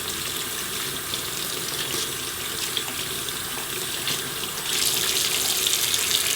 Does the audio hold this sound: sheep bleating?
no